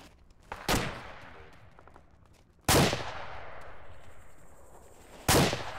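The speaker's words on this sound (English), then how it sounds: "Keep firing" Three loud, sharp gunshots in the Valhalla Tactical video game, spaced a few seconds apart, each cracking close by and ringing out into a fading tail, with no talk over them.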